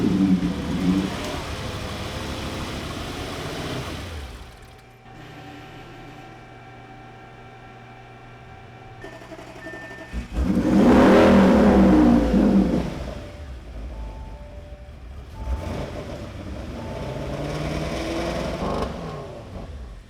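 A tuned Audi RS7 with a misfire on cylinders 6 and 8 idles roughly, then revs up loudly before settling back to a rough, uneven drone, close by with no talk.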